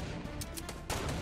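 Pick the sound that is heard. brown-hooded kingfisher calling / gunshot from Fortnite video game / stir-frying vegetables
gunshot from Fortnite video game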